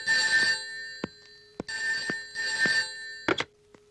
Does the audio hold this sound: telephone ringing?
yes